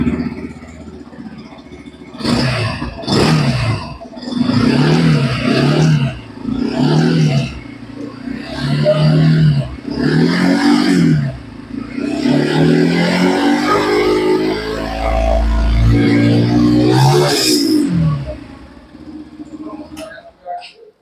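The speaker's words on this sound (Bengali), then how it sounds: "এর জন্য আমি আপনাদেরকে একটু এক্সস্ট সাউন্ডটা শুনিয়ে দিচ্ছি।" A Yamaha FZ-X motorcycle's exhaust snarls through a series of short, rhythmic throttle blips, then one longer rev, heard up close. Someone talks between and over the bursts.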